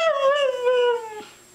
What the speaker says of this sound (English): Huskies talk through howling, barking, or they even have a fun, singing combination of the two.